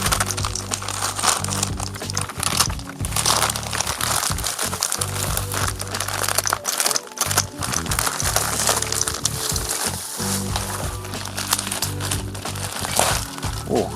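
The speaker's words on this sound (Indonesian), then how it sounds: "kita akan coba unboxing." A plastic parcel holding an AC Milan fourth jersey boxset is unwrapped up close, with steady crinkling and crackling of plastic and bubble wrap throughout, loud and dense, briefly pausing midway.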